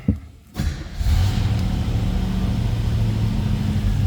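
A 1966 Chevrolet El Camino Custom with a 3-speed manual cranks briefly, catches, and its engine rises into a loud, steady rumbling idle with a rev, close up and without talk.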